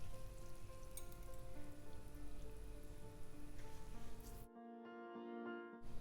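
Banana pieces frying in hot oil, a dense, steady sizzle and crackle that fills the scene at moderate volume, then cuts off abruptly near the end.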